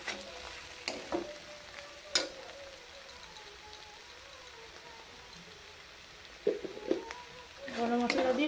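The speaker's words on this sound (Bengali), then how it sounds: "গরম মশলা দিয়ে একটু নাড়াচাড়া করে নেব" Cabbage cooking with a fish head in a pan, stirred now and then: a faint low sizzle broken by a few sharp scrapes and clinks, getting louder near the end.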